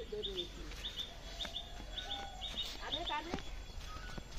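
Birds call in a rooftop garden, giving short, repeated high chirps and tweets scattered through the clip under someone talking nearby.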